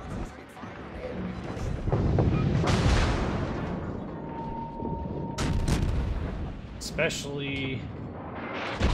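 Battleship guns fire in a naval battle game, heavy booming salvos and rumbling blasts with a dense low roar, while a player talks over the action.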